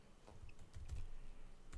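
Keystrokes on a computer keyboard while writing code for an ASP.NET Core Razor Pages website, a faint irregular patter of soft taps under low background noise, with no talking.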